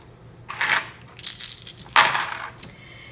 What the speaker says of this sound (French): Donc, à notre tour, on va lancer les dés.